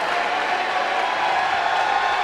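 A large Dayton crowd cheering and applauding at a basketball game, a dense, steady roar of many voices filling the arena, loud and continuous throughout.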